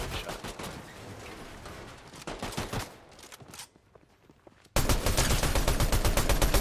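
Video game gunfire cracks in rapid bursts and single shots, fairly quiet at first, then a loud, dense volley breaks out near the end after a short lull.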